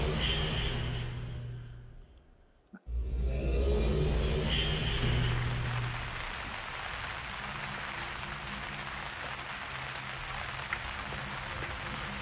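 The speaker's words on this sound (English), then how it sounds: "It's still raining." Rain falls steadily in the video game URU, a soft, continuous hiss of drops that dips almost to silence for a moment, then returns at an even level with a low rumble beneath.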